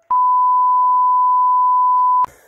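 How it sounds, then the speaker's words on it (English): A single long, steady censor beep of one pitch runs for about two seconds, loud and alone, cutting out speech and ending abruptly with a short burst of noise. "Beep that bit out."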